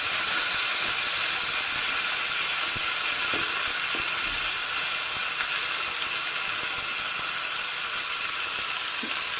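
Marinated tandoori chicken pieces sizzle in an iron pan with a loud, constant high hiss at close range and no talking.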